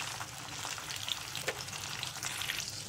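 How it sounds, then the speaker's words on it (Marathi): Paneer pieces fry in hot oil, giving a steady dense sizzle with small crackles and pops throughout, close and fairly loud, with no talking. "पनीर शेवटला तळून घ्यायचे"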